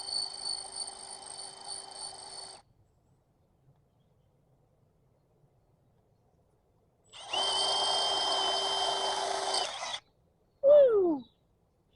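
A power drill whirs in two bursts separated by silence, close and steady, drilling out an old engine part, followed by a short falling mechanical squeal at the end.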